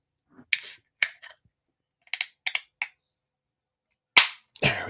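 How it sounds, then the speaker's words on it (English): Can of Cape Cod Pilsner beer being cracked open. A few sharp, close clicks and taps come first, then a crisp pop followed by a short hiss. "So let's crack one open."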